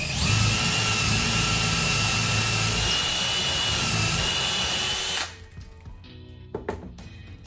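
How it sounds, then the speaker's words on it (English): A loud power drill runs continuously for about five seconds drilling a hole into a wall stud, then cuts off, leaving faint clicks and handling noises. "drill that other hole"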